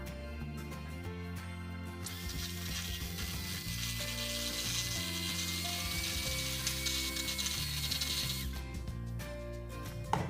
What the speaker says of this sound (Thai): โกโก้เจะใส่มาแค่ประมาณครึ่งช้อนตวงนะคะ หรือประมาณครึ่งช้อนโต๊ะนะคะ ใส่ลงมาได้เลยค่ะ เสร็จแล้วเราก็ ปั่นต่อเลยค่ะ